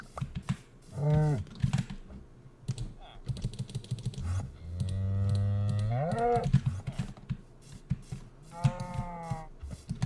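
Cattle moo several times in a farming video game while the player breeds cows, the calls drawn out and fairly close, with computer keyboard clicking and tapping throughout.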